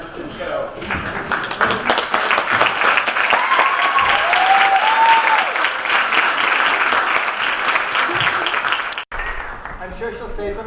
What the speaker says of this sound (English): I want a big round of applause for this